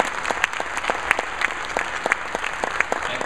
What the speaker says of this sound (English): can we give Sarasville High School another round of applause?